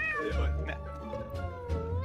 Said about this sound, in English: If you guys hear a cat meowing and knocking on my door